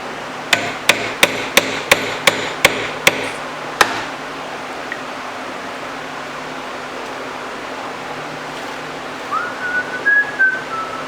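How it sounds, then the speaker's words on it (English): Nine sharp metallic strikes from a brass hammer on a Monarch 10EE lathe part in quick, even succession, then quiet room hum with a faint whistle-like tone near the end. "With a brass hammer."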